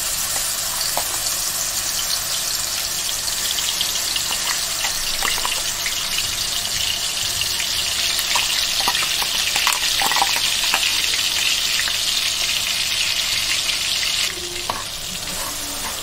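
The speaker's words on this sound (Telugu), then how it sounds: "ఇప్పుడు మనం ముందుగా మిక్స్ చేసి పెట్టుకున్న ఆనియన్ పేస్ట్ ఉంది కదా, దాన్ని ఇందులో వేసుకుందాం." Onion paste fries in hot oil for fish pulusu, giving a loud, continuous sizzle with intermittent stirring scrapes, steady throughout before dropping slightly near the end.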